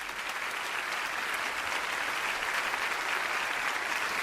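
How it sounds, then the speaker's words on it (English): A studio audience at a televised magic show breaks into a thunderous, unbroken round of applause that stays dense and constant throughout. "Sable, would you join me on stage as the audience gives you a thunderous round of applause?"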